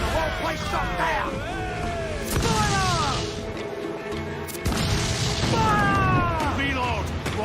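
Ship cannons firing in the naval combat of Assassin's Creed 4 Black Flag, heavy booms and crashes repeating over several seconds under continuous shouting voices and game music.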